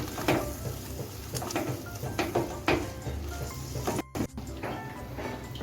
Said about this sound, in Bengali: অনবরত নেড়ে চেড়ে যতক্ষণে টক দই কাঁচা গন্ধটা কেটে যাচ্ছে ততক্ষণ আমি কষিয়ে নেব